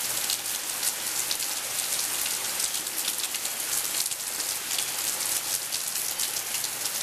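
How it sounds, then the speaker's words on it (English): Steady rain falls at the start of Hurricane Isaac in Arkansas, a dense, even hiss of drops that holds without a break for the whole stretch, close and continuous with no voices. "There's the rain."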